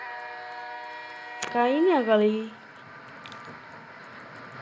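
Train horn blaring in a horror escape video game set in a mortuary, a loud bending whistle of about a second over game ambience, with a speaking voice before it.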